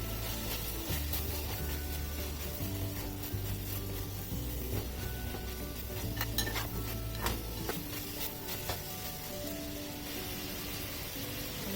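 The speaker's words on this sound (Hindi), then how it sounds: "अब मैं डाल रही हूँ टमाटर और इसको मिक्स करके हम बस उतार लेंगे" Tomatoes are stirred into chicken fajita filling in a pan, producing continuous close scraping and rubbing of a utensil against the pan over a soft sizzle, with occasional light clinks.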